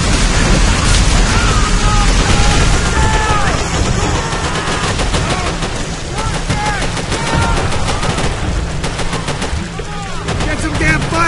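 Dense, continuous gunfire from Call of Duty: World at War, with rapid machine-gun bursts and rattling shots filling the whole stretch at a loud, steady level, with voices faintly mixed in.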